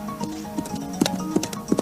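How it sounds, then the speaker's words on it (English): Horse hooves clip-clopping in an uneven rhythm of light knocks, set against faint steady background tones, moderately quiet. "Ah, horses!"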